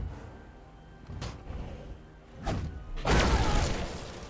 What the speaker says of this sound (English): I don't think the explosion did anything though